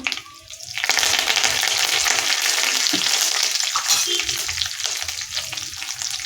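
Mustard seeds, cumin, three cut green chillies and curry leaves hit hot oil and fry in a pan, bursting into a loud, steady crackling sizzle that holds close up with occasional stirring.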